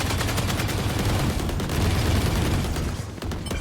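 Dense, continuous gunfire from the video game Valorant, overlapping bursts that stay loud and full throughout with a brief dip near the end and no talk.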